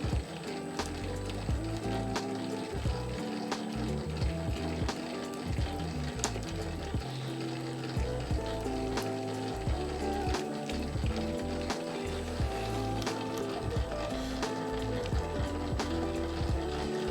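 A Famag IM5S spiral mixer kneads a 70% hydration sourdough pizza dough, a continuous close mechanical churning and whirring with rhythmic knocks and rattles, with no speech.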